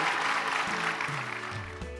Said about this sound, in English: A well-deserved round of applause for Southwest Airlines at the opening panel discussion on center stage